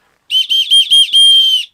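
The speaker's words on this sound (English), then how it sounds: "you're never too far away from a built-in whistle, which is on the male part of the top buckle." A built-in whistle on the male half of the top buckle of an Osprey Aether AG 70 backpack gives five shrill, close blasts, the last held longest, with nothing else heard.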